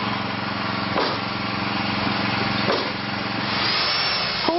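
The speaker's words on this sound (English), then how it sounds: "Holes are drilled for each post" A power drill boring holes into wooden posts for deck stairs at an elevated deck, running steadily and close for the whole stretch, with a few sharp bumps and knocks where the bit bites or the tool shifts.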